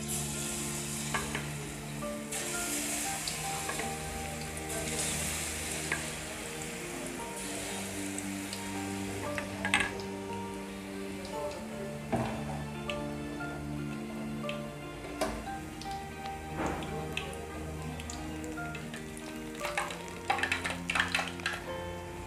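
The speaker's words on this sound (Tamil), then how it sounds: "இப்போ இதை பொரிச்சு எடுத்துடலாம், ஊற்றிடலாம்." Egg chips of beaten egg batter fry in hot oil on a medium flame, giving a steady, dense sizzle and crackle with occasional sharper pops throughout, close and continuous with no talking.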